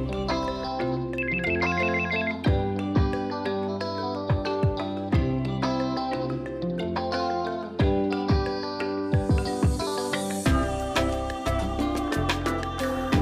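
A telephone rings with a bright, repeating electronic melody, loud and close, over a rhythmic musical backing with clear percussive hits.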